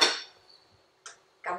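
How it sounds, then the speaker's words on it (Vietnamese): A lid set onto a slow cooker pot while cooking rice porridge with beef and greens, heard as a sharp close clatter at the start, then a quiet pause and two short lighter clinks as it settles. "Đậy nắp nồi lại."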